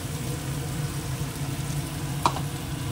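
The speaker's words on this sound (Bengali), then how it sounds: "পেঁয়াজটা ভেজে কমে গেছে, এবার এর মধ্যে পোস্তটা দিয়ে দেবো।" Onions fry steadily in a pan, a continuous soft sizzle with one brief clink near the end as poppy seeds go in.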